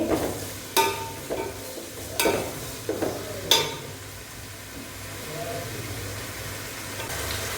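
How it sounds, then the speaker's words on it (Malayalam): Salted onions sautéed in a pan for Lakshadweep-style biryani, a low simmering sizzle broken by several loud scraping stirs of a spatula in the first half, then quieter steady cooking. "ഇത് നന്നായിട്ടൊന്ന് വഴറ്റിയെടുക്കട്ടെ"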